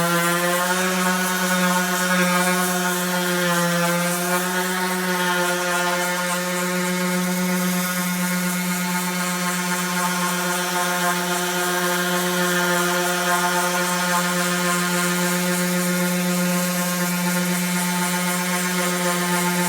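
A power sander runs steadily on the gel coat of a Carolina Skiff boat deck, a loud continuous whine with a stable pitch and no pauses.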